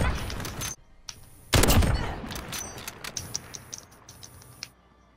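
Rapid bursts of gunfire from Call of Duty Modern Warfare: a loud, dense volley, a second heavy burst after a pause, then a string of lighter sharp shots trailing off.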